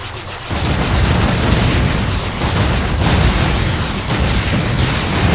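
A loud, continuous roar of rumbling explosions and booms from the video game Jade Empire, dense and unbroken after a brief quieter start.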